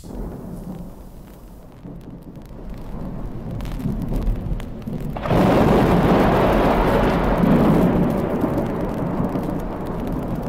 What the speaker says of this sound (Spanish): parece que va a llover, se largó ya